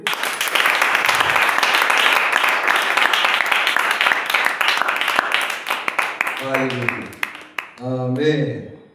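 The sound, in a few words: audience clapping, applause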